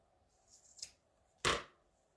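Scissors trimming a pipe cleaner in a quiet room: a couple of faint light snips followed by one sharp, close cut.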